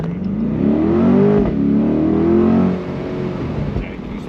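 A Corvette C8 launching hard under launch control, its engine rising in a strong climbing rev that dips briefly at a shift and climbs again before easing off; the car is heard from inside at close range.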